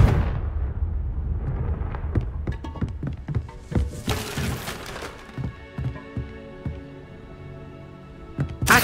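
Explosive Confringo spell blasts from the video game Hogwarts Legacy, a string of sharp booming impacts with shattering debris, some bursts close and heavy, others lighter, spread across a busy game soundscape with a tonal background hum.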